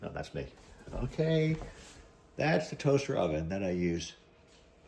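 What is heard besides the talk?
No everyday noise stands out behind the speech.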